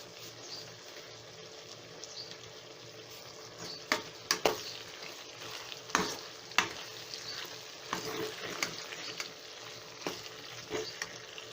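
Chilli chicken frying in a pan while being stirred, giving a steady sizzle with intermittent scraping clicks of the utensil, close up and without talk.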